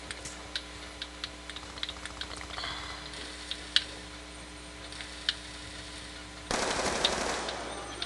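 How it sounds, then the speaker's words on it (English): Rapid, faint bursts of gunfire from Black Ops 2 played on Wii U, scattered clicks and shots over a steady electronic hum, ending with a louder burst of noise. "I was trying to shoot him through the wall."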